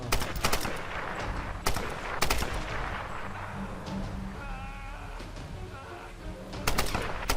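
Gunfire in the Tomb Raider video game, with bursts of rapid automatic shots at the start and end and isolated loud shots between them over a steady game soundscape, with faint voices in the middle.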